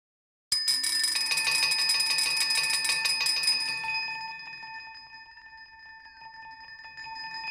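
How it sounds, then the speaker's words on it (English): An Omnisphere 2 synthesizer patch rings out with its granular oscillator turned on: a sudden bell-like strike with a shimmering, buzzy metallic attack that thins into sustained pure tones, then swells slightly again. "We're going to turn on the granular oscillator now."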